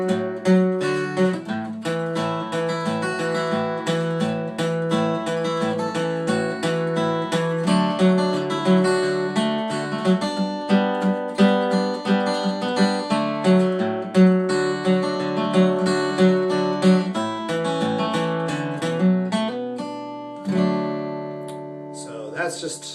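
A bouncy, fuller interpretation of the song I Shall Not Be Moved, played as a steady, lively instrumental that runs continuously for about twenty seconds, close and clear, with no talking over it.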